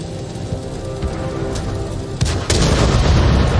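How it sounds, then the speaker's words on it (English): Artillery fire in World of Tanks comes as a loud, heavy booming rumble over dense background noise, with a sharp blast partway through and a louder sustained roar after it. "watch the artillery shotguns him"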